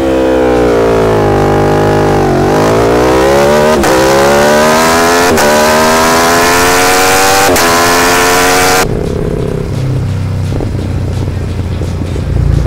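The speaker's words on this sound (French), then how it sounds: "Je vais mettre celui de la Tuono maintenant" Yamaha MT-09 motorcycle fitted with a Tuono V4-style exhaust sound running launch control: a loud, sustained engine roar climbing steadily in pitch with sharp pops at intervals, then dropping abruptly to a rough, lower idle-like rumble.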